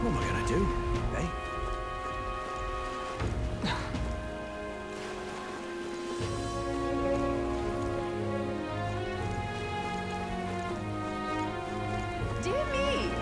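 Steady rain patters throughout a scene in the video game Metaphor ReFantazio, a soft continuous hiss under game music and a character's voice.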